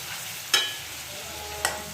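Meat frying in a mix of butter and white cooking oil for butter chicken, a steady low sizzle with two sharp utensil clinks against the pan, no voices.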